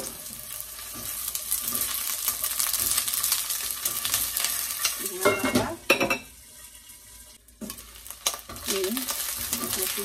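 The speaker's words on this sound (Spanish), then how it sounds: "tengo un sartén con poquito aceite. Y lo primero que voy a hacer es poner la cebolla y el ajo" Onion and garlic frying in a little oil in a pan, a steady close sizzle with stirring scrapes and a few utensil clinks, briefly easing off before the sizzle returns.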